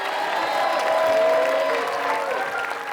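A studio audience on a TV dating show claps steadily in one sustained round of applause, loud and dense with a little crowd murmur, fading slightly toward the end.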